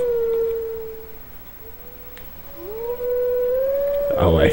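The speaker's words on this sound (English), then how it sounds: "We're gonna have to howl." In The Legend of Zelda: Twilight Princess HD, a wolf howls a long, steady sustained note that dips, then rises again and holds, ending in a short noisy burst.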